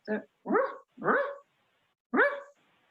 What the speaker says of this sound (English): there goes my neighbor's dogs, 3 of them